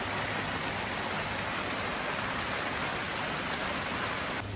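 Rain drums continuously on a plastic tarp used in place of windows at an off-grid home in winter, a dense, loud, even hiss of pattering drops with no pauses.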